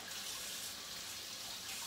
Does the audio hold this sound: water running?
yes